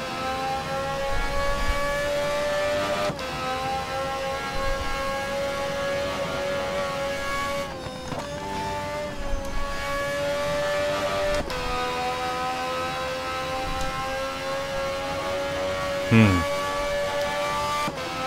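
A race car at full throttle on the Nordschleife in the racing game Race07, a sustained high engine drone holding steady with brief shifts and dips, loud and continuous with no speech.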